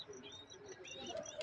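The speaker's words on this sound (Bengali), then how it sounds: "এই দেখতে পারতেছেন এটা মাক্সি কবুতর" Maxi pigeons murmur and chirp faintly in a pigeon loft, giving soft, short high calls and low coos over quiet background noise.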